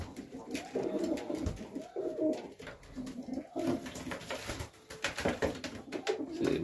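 A pigeon coos repeatedly in a steady rhythm of low, throaty calls, close and clear over faint outdoor background noise, with no talking.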